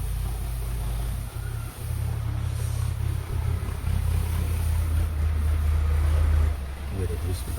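A tractor with a trolley idles and rumbles nearby while a load of dry chopped fodder is tipped out into a fodder store, a steady loud low engine drone running throughout with a brief dip near the start.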